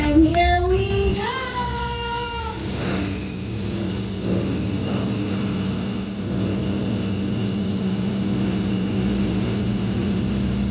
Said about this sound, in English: those motorcycles are really loud over there